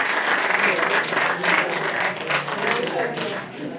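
An audience at a launch event applauds a woman being welcomed on stage, a loud sustained round of clapping that fades a little toward the end, with voices faintly mixed in.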